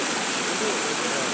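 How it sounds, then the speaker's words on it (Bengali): A hillside waterfall at Ajodhya hills rushes in a steady, dense hiss of falling water, heard from a viewpoint above. The sound is constant and even, with no talk. "এটাই হচ্ছে ঝর্ণা।"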